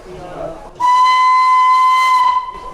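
A loud, steady steam whistle blasts for about two seconds after a brief lull, a bright sustained tone with a hissy edge, then cuts off.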